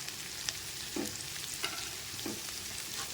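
Whole spices fry in oil with onions sautéed about three-quarters soft for a Tamil mutton curry, giving a steady close sizzle broken by a few soft stirring scrapes, with no one talking.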